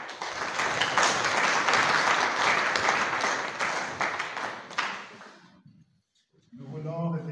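Audience at a conference of young religious applauding a nun after her talk, a dense, steady wash of clapping from many hands that fades out, followed by a brief pause and a voice starting to speak.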